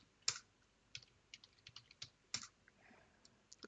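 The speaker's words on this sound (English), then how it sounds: "I'll just type in passwd hermano and put in the password" Someone types a password on a computer keyboard, about a dozen sharp, close key taps at an uneven pace, a couple of them louder, with quiet pauses between and no talking.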